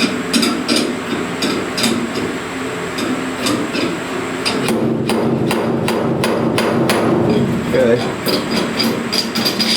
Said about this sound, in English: Hammer and dolly.